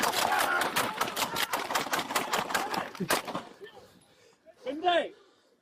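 Police fire a beanbag gun and real handguns in a rapid, loud volley of sharp cracks lasting a few seconds, followed by a brief pause and a short shouted voice.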